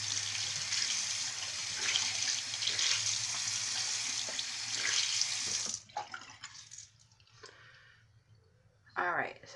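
A tap runs steadily into a sink to wet a Real Techniques makeup sponge, a loud close rush that cuts off partway, followed by quieter handling and a brief splash, with someone speaking.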